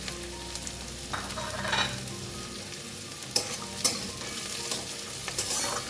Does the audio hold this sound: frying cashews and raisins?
yes